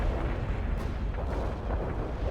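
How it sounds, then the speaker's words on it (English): Incendiary bomb explosion in World in Conflict, a deep continuous roaring rumble of burning blasts, loud and close, sustained without pause for the whole stretch. "Incendiary bomb delivered"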